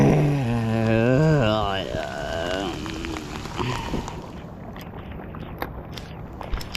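Steady rain patters on a kayak and the surrounding water during a post-hurricane fishing trip, with scattered sharper drops; a voice talks over the first couple of seconds before the rain carries on alone.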